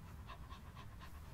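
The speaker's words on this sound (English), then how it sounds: "This is my dog" A German Shepherd pants in quick, even breaths, about four clear huffs in a little over a second, close but quiet, with no talking.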